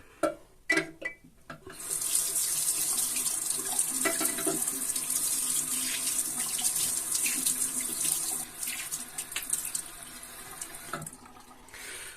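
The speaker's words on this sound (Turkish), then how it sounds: "Şimdi yüzümü yıkayacağım." A tap runs into a sink while someone washes their face, a few clacks and splashes first, then a steady close stream with hand splashes breaking it near the end.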